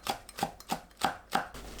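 A knife slices onion into half-centimetre pieces on a cutting board, giving five crisp, evenly spaced chops close up with quiet gaps between them.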